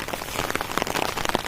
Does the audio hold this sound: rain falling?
yes